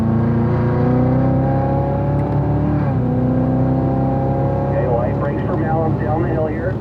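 A race car circles the Spring Mountain track, its engine a loud, steady, buzzing drone. The pitch dips briefly, then climbs again as the car pulls away. Someone talks over the engine throughout.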